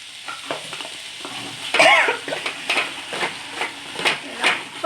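A spatula stirs gavar (cluster bean) bhaji in a pan, giving a busy run of scraping, clinking strokes over a steady sizzle, with one louder rattle near the middle; a voice briefly sounds nearby.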